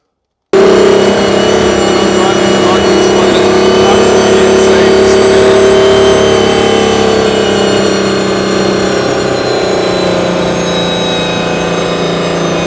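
Aston Martin Valkyrie Spider with its 1050-horsepower V12 engine while driving, heard as a loud, steady engine drone throughout, with a tone that shifts slightly in pitch as the car moves.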